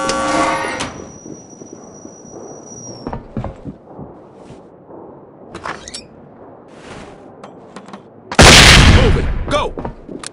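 A flashbang grenade bursts through a door breach in the SWAT 4 tactical shooter, landing as one loud, broadband blast near the end after scattered clicks, footsteps and gear movement.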